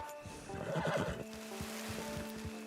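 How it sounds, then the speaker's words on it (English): A horse neighs in the video game Red Dead Redemption (RedM) on a foggy night, a clear whinny followed by a few soft hoof-like thuds over a faint ambient background. "Oh, so there's a horse there."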